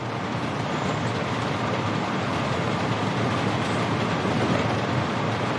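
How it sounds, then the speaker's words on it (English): Coal export train in the game Workers & Resources: Soviet Republic, hauling 600 tons of coal toward a border export facility, rumbling steadily with a continuous loud rolling rail noise and faint clickety-clack throughout. "This is the coal export train."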